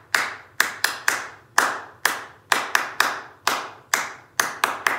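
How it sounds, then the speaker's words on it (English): Sharp hand claps keep a steady song rhythm, a close and loud run of about sixteen claps. They come in groups, some evenly spaced and some quick doubles, with no voices. "we're just gonna do all claps"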